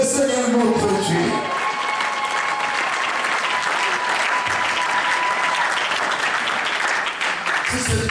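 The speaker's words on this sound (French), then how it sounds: "Acclamons le Seigneur notre Dieu." A church congregation claps and applauds loudly at a worship service, a sustained dense wash of clapping close by with voices calling out beneath it.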